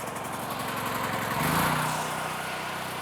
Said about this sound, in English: running a gas-powered generator.